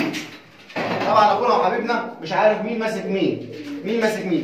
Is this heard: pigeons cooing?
yes